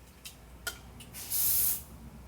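Aerosol glue dryer spray used on acrylic nail tips gives a short, close hiss of about half a second, after a few soft taps and clicks.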